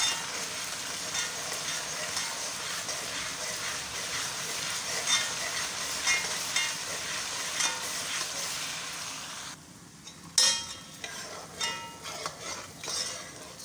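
Tomato paste sizzles and fries in a pot for egusi soup, a steady soft hissing crackle with occasional stirring, then a brief lull followed by spoon and pot clinks near the end.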